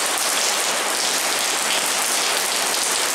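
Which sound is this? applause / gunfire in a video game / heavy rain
heavy rain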